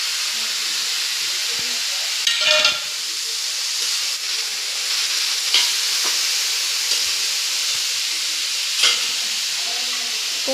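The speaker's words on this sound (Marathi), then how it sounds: "लसूण आणि खोबरं पण भाजून घेऊ." Garlic and coconut roast in a pan for a mushroom masala, a constant hiss overlaid by several separate scraping stirs, close and fairly loud with no voices.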